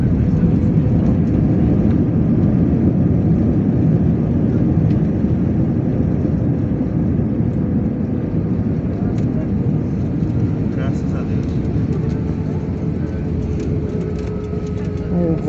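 An airliner lands on runway 35L at Congonhas after a turbulent flight, with a loud, steady engine roar and rumble of the rollout heard from inside the cabin throughout.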